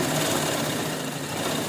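Sewing machine stitching a saree cover made from leftover blouse pieces, a close, steady, rapid mechanical whirr and chatter running continuously without pause.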